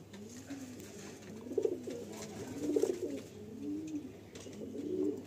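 A pair of Madrasi Kalanka pigeons coo softly and repeatedly up close, with low, rolling calls coming in several bouts over a quiet background.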